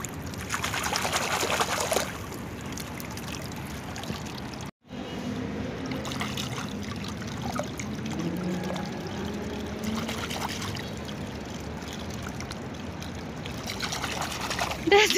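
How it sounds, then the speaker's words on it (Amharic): Water trickles and pours at an outdoor spot in Beirut, a steady wash of flowing water running throughout. A voice talks over it, with a brief dropout partway through. "ውሃ አለ እዚህ ቦታ"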